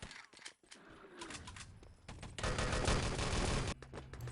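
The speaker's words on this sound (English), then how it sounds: "let's see if his artillery is going to hit people here" An artillery strike in the game Enemy Territory lands as a dense rumbling barrage of blasts swelling in the middle and then easing, mixed with scattered game noise.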